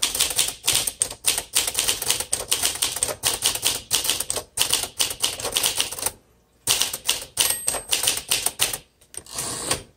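Rapid mechanical keystrokes from a 1954 Smith Corona Silent Super typewriter clatter in quick bursts, with a couple of brief pauses, close and crisp.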